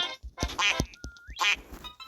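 Duck quacks from the video game Don't Press the Button come in quick, nasal bursts with a short rising squeak between them, clear and close with no talking.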